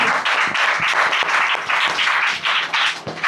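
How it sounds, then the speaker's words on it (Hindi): A church congregation at Sunday prayer claps loudly and continuously in thanks to God, a dense, close wash of hand claps holding steady for several seconds. "जोर से ताली मार के प्रभु का धन्यवाद"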